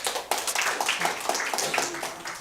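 Congregation in a church worship service clapping together, a dense, loud run of overlapping hand claps that continues steadily throughout.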